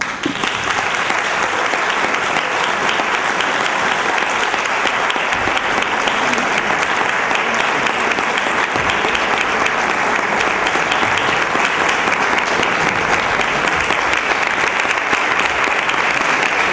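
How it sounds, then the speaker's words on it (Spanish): Audience at a music competition concert applauds a clarinet and piano duo, with loud, dense clapping that holds steady throughout. "Un fuerte aplauso."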